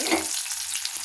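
Onion frying in hot oil for a sambar tempering, a short bright sizzle at close range with no talk.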